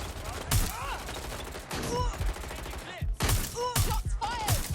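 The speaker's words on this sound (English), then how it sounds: "Shots fired! Over here!" Gunfire in Watch Dogs: Legion, several loud bursts of rapid shots cracking out in clusters amid chaotic game action, with voices shouting between the volleys.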